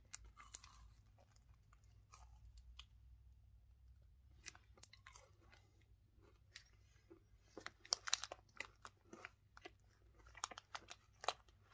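Someone bites and chews a Cinnamon Toast Crunch snack bar, a muesli-style bar with a yogurt base, up close. Soft chewing comes first, then a run of sharp, crisp crunches in irregular bursts against a quiet background.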